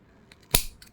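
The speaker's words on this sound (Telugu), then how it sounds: "ఇదిగోండి ఇలా కింద ట్రిమ్ చేసుకుంటే సరిపోతుంది." A single quick scissor snip trims loose tassel threads on a saree end, a sharp close click standing alone in near silence.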